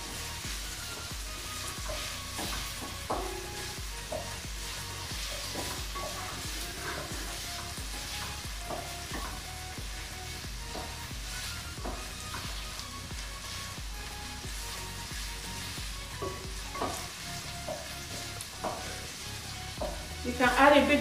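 Chopped vegetables, including sweet corn, stir-fry in a pan with a steady soft sizzle, broken by frequent scrapes and clicks of stirring, close by and with no talking.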